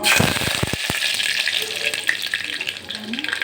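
Cumin seeds crackle in hot oil in a pan, the start of a brinjal curry, giving a close, dense sizzle with a few sharp pops and knocks at the start, then a steady hiss.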